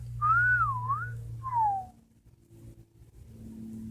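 Someone whistles a short wavering tune, then a second falling note, clear and close over a faint low hum of traffic.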